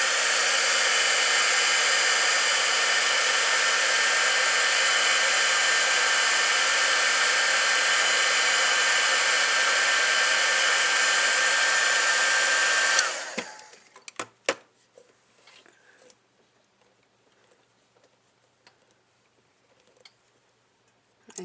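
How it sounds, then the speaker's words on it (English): A heat tool blowing hot air to melt UTEE embossing enamel for rubber stamping, a loud steady whoosh close up for about thirteen seconds, then cut off, leaving faint ticks and small clicks. "So I'm going to heat this Utee up enough to where it's melting"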